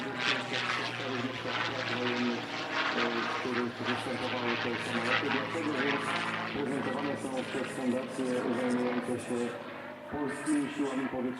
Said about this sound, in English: British pilot and Romanian resident Steve Stead displaying his Belgian-based P-51D Mustang, known as Little Rebel